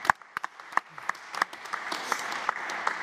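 At a panel discussion during an ocean film tour, scattered hand claps start sparse and sharp, then thicken into quiet, steady applause from a small audience.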